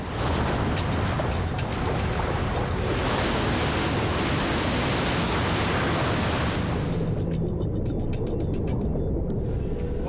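Submarine diving in the wake of a typhoon, a steady loud rush of water and air roaring continuously throughout, easing slightly toward the end.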